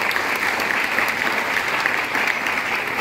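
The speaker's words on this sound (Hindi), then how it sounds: "एक बार जोरदार तालियां मेहमानों के लिए" Sustained applause from a crowd of guests at a Vestige business event in Delhi, a dense, steady wash of many hands clapping at even loudness for the full stretch, with no speech over it.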